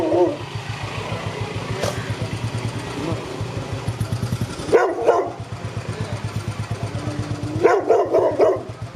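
A pitbull barks in a few short, loud bursts over a steady low engine rumble, like a motorcycle idling nearby.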